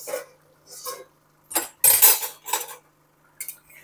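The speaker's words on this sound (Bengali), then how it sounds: "5 মিনিট পর ঢাকনাটা খুলে দেখে নেব।" Metal lid lifted off a cooking pot of simmering ridge gourd, potato and lentil dumplings, a few sharp clinks and scrapes of metal on metal in quick bursts, close and fairly loud, with no talk.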